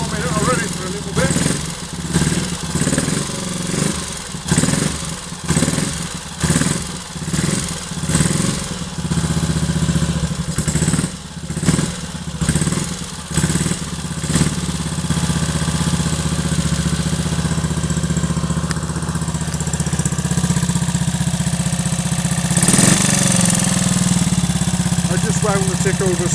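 A Triumph Tiger Cub motorcycle engine idles while warming up from cold, a close, steady putter that surges in uneven rhythmic bursts early on and then settles into a continuous drone, with a person talking over it.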